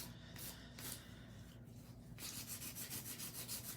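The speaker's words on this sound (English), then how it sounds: "Just a bit of hand filing, speed up the process." Hand filing on acrylic nails gives a close, soft, steady rasping, with short strokes at first and then a quicker run of even back-and-forth passes.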